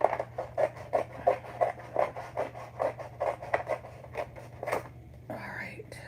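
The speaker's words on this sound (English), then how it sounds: "I'm going to cut this one out." Scissors snip out a paper image in a series of close, rhythmic cuts, roughly a dozen quick crunchy snips, ending with a short rustle of paper.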